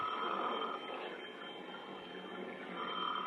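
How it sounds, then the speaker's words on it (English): A telephone rings in a 1950s radio drama, two rings separated by a pause, moderately loud and alone with no voices over it. "It was 5 minutes to 6 when the phone rang again."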